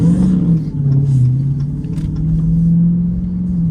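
A 2022 Dodge Challenger Hellcat Redeye Widebody muscle car's engine rumbles loud and close in a steady low growl, rising and falling slightly as it revs on a track, with no voices over it.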